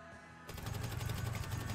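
Suppressed carbine rifle fire in a video game, a rapid continuous burst of muffled, evenly spaced shots starting abruptly and running to the end, loud and close.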